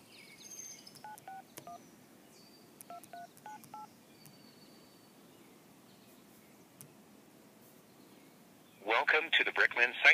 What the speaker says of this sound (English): Now let's go over and do the call, and I'll put it on speakerphone so you can see what we're doing here.